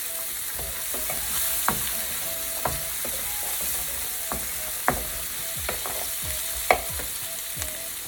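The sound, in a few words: onion and salt frying in pan for coconut rice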